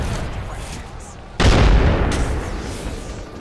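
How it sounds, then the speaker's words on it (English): In Apex Legends, a grenade detonates with a sudden loud boom about halfway through, followed by a rumbling tail that slowly fades, after a stretch of quieter game noise. "Oh, grenade."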